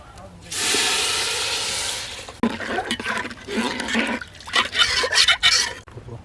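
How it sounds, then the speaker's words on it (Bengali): Water poured into a hot pot of fried rice and lentils, a loud sustained sizzling hiss followed by bubbling, spattering crackle, close. "চাল ডাল একত্রে ভালো করে ভেজে নিয়েছি। এবার জল দিয়ে দিচ্ছি।"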